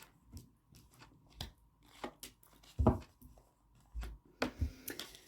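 A deck of tarot cards is shuffled by hand, giving irregular soft riffles and taps, quiet and close, with no one speaking.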